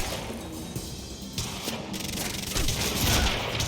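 Single carbine rifle shots ring out in Quantum Break: a few sharp, spaced cracks over a busy, loud game backdrop of booms and rumble.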